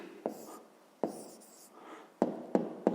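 A pen scratches across paper while an answer to a fifth-grade maths exercise is written down, with a few short strokes and sharp taps at uneven intervals, quiet and close.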